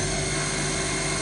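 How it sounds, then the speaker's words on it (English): Spindle of a compact Daewoo 150G CNC gang lathe with Fanuc control running at 2000 RPM, a steady, loud whine with a constant hum, unchanging throughout the short stretch. "This is a compact little machine, very fast. Spindle is very healthy. Turn it on for you guys. This is at 2000 RPM."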